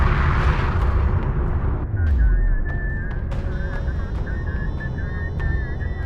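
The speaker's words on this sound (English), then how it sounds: "Enemy railgun firing on friendlies." Railgun shots and explosions in Homeworld: Deserts of Kharak, with a heavy rumbling blast early on followed by sharp intermittent cracks over a steady mechanical drone, with no voices.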